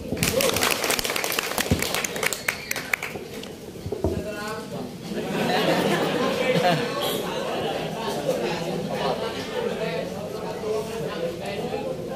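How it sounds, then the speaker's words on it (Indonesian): A crowd at a Muslim religious counselors' gathering in Karanganyar, Indonesia applauds, clapping densely and loudly at first, then settling into a fuller, steady wash of claps mixed with voices. "tepuk tangan."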